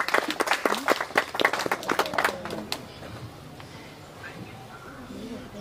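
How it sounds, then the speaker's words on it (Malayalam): Scattered hand clapping from a small group at a birthday gathering, sharp and uneven claps for a few seconds that die away into quieter room sound. "അപ്പം നമുക്ക് എല്ലാവർക്കും ഒരു കൈയടി കൊടുക്കാം."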